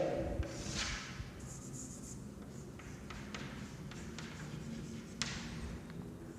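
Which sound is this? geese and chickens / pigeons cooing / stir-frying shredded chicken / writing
writing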